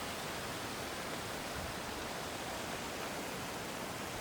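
Water pours steadily from the mouths of a fountain's dog statues on a downtown Toronto street, a constant broadband rushing hiss with no pauses and no voices.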